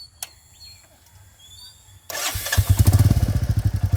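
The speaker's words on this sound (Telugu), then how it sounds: "ఈ రాయల్ ఎన్ఫీల్డ్ క్లాసిక్ 350 మనకి సౌండ్ కూడా ఇప్పుడే చూపించా" A Royal Enfield Classic 350 motorcycle starts after a brief quiet, then its engine settles into a loud, close, rhythmic thumping exhaust beat.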